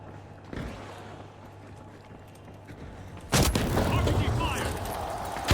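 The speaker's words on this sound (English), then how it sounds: "RPG fire." RPG rocket fire in the shooter game The Finals, a loud sudden blast partway through that opens into a dense, sustained roar of explosions and gunfire, following a quieter stretch of game sound with voices talking.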